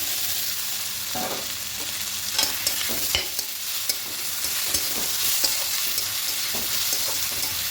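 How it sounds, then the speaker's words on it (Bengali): Okra fried in softened tomato paste, stirred in a pan with a steady sizzle and repeated scraping clicks and knocks of the spoon, close and moderately loud, with no talking. "ঢ্যাঁড়সটা দিয়ে আরেকটা কিছুক্ষণ এভাবে ভেজে নেবো"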